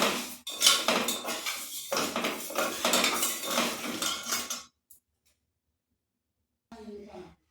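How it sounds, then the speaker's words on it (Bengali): Moong dal dry-roasting in a pan for winter khichuri, with dense scraping and clinking of a spoon stirring across the metal for several seconds, then a pause and a brief softer stir at the end. "আমি মুগ ডাল ভেজে নিচ্ছি। ডালটা একটু ভেজে নেব।"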